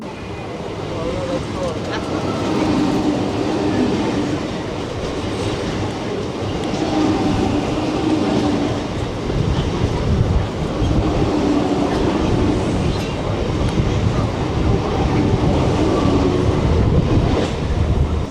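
A local train runs on the rails toward Belur station near Howrah, giving a continuous rumble and clatter of wheels on track that stays steady and fairly close.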